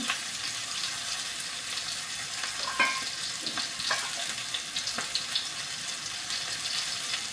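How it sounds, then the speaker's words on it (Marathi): Onion fries with a little salt in a pan, giving a steady, dense sizzle throughout with a few faint clicks and scrapes, close and even in loudness. "किंचित मीठ टाकून कांदा फ्राय होत आहे."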